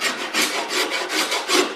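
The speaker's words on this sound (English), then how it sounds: "then I'll just gradually sand until I get it just right" Sandpaper rubbing along a carved wooden guitar neck, close rhythmic back-and-forth rasping strokes, about six passes in quick succession, no talking.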